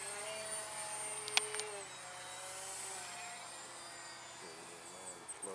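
A small R/C Depron Eindecker-style park flyer plane flies overhead. Its electric motor whines as a thin tone that rises and falls with the throttle, and one sharp click sounds early on.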